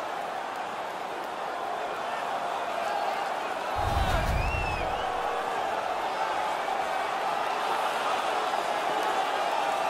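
Hockey arena crowd at a playoff game against the Toronto Maple Leafs roars steadily throughout, with a brief deep thump near the middle and a rising swell of cheering.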